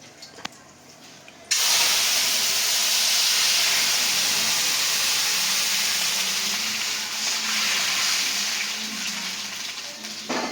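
Tempering spices dropped into hot oil on low heat, a sudden loud hiss that becomes a steady, close, sustained sizzle after a quiet start.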